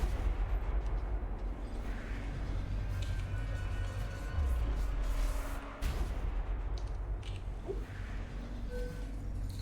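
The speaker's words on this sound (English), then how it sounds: "I've just got this fucking overloading reactor that is currently doing its very darndest to" An overloading reactor rumbling and detonating in the video game Deliver Us The Moon, with deep booms, crackling blasts and a sustained low roar under sharper bursts.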